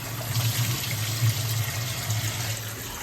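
Running water from a tap splashes steadily into a sink or bowl while ingredients are washed before soaking, a continuous close hiss and gurgle with no talking.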